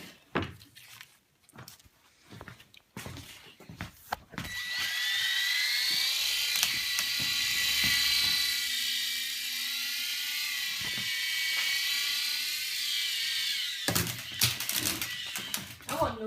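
A radio-controlled helicopter's rotor spins up into a steady, high, droning whine that holds for about nine seconds before cutting off. Scattered knocks and handling noises come before and after, with brief talk nearby.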